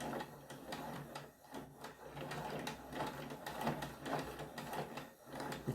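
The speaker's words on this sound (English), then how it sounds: "So this is me trying the wool winder a different way." A yarn wool winder being cranked, giving a steady whirring, clattering mechanical rhythm with repeated pulses throughout, fairly close and moderately quiet with no talk.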